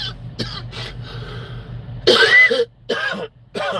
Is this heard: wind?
no